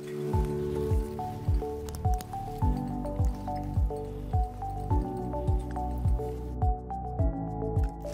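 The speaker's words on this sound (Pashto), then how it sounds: "دغه د معلم صاحب اوبه هم جوش شوې" Water boils in a pot during a school physics lesson on boiling point, producing a steady, evenly spaced series of bubbling plops and glugs, moderately loud with no talking over them.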